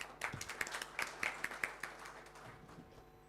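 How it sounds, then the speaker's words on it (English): Scattered, faint clapping from a small audience welcoming a chief guest at a conference, individual claps distinct and uneven, thinning out toward the end. "please welcome our chief guest with warm round of applause"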